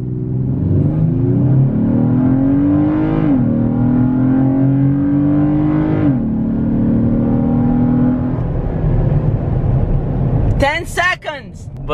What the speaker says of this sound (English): 0 to 60 on a 2017 Chevy Colorado with a really big wheels and tires